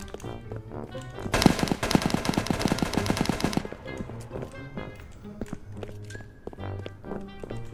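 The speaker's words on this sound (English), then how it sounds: "Where them gunshots coming from?" Rapid bursts of automatic gunfire ring out in a street-life hood video game, a dense loud volley lasting about two seconds, followed by scattered quieter in-game sounds and footsteps.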